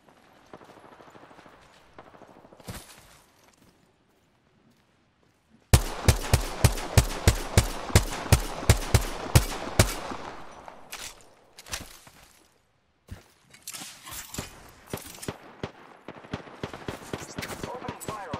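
Gunfire in the video game Apex Legends: after a quiet stretch a steady series of loud, evenly spaced single shots rings out, followed by quicker scattered bursts and lighter clatter from a battle royale match.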